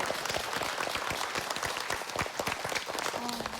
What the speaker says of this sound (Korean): 우선 이분들 따뜻한 박수로 맞아주시기 바랍니다